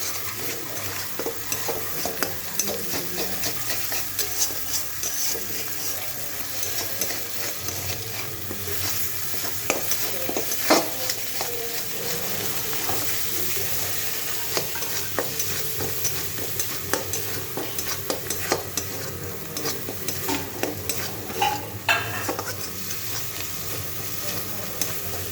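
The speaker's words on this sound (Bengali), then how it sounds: "মশলার গা থেকে তেলটা ছেড়ে দিচ্ছি। এখন আমি মোচাগুলো দিয়ে দেবো।" Banana flower frying in spiced oil and being stirred, a steady close sizzle with scraping spoon strokes against the pan throughout, no talk.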